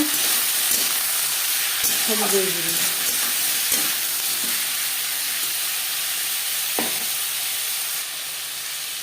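Flat beans frying with salt and turmeric in a pan, a constant bright sizzle broken by several sharp scraping stirs and clacks of the spatula, the hiss easing slightly near the end.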